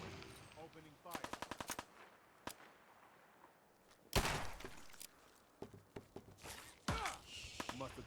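Fallout 4 combat with rapid bursts of automatic gunfire and single heavy shots, loud and close, mixed with footsteps and thuds while game characters speak in between.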